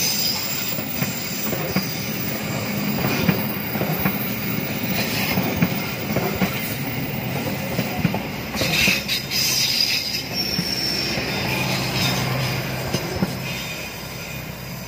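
An Argo Wilis passenger train rolls past at Bumiwaluya, Malangbong, Garut, its steady rumble of wheels and wagons filling the whole stretch with squeals and clatter, loud and close throughout.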